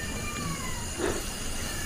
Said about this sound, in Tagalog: Pusa ko ba yan?